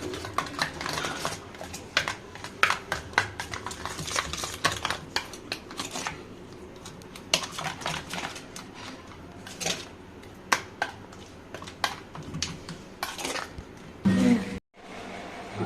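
Crab masala paste being stirred and mixed in a bowl, a steady run of soft wet clicks and light taps against the bowl, close and fairly quiet, with no talking.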